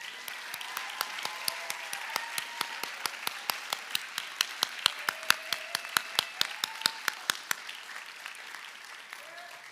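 Audience applause at a high school fine arts banquet for the theater department students, a steady patter of many hands clapping that fades out after several seconds.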